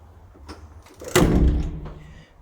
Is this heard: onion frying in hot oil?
no